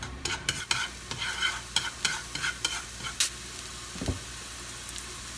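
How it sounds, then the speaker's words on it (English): Garlic stir-fried lightly in a pan for a gizzard stir fry, a crisp sizzle broken by repeated scraping and tapping stirs, close and alone without speech. "Then put garlic and stir fry them lightly."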